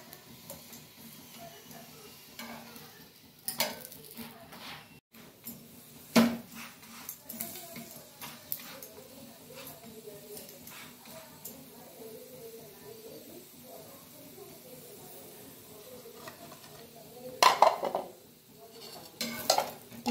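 A bathua paratha roasts on a griddle with a faint, steady sizzle, punctuated by occasional utensil clinks and taps; quiet overall.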